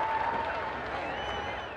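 A packed arena crowd at the Moses Lake Demolition Derby gives a continuous roar of cheering and applause, dense and steady, with whistles rising above the din.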